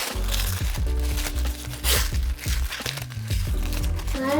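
White Rapid Junior hair wrap strips are handled up close for wrapping a pixie cut, giving continuous crinkly paper and plastic rustling with small crunches, over a low background hum.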